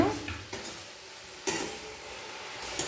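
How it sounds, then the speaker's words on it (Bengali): Grated coconut filling with cardamom and cashew pieces is stirred in a pan, faint sizzling with a few soft scraping knocks spaced about a second apart; no talk. "এরপর নাড়াচাড়া করে রস শুকিয়ে নারকেলের চৌ তৈরি করে নেব"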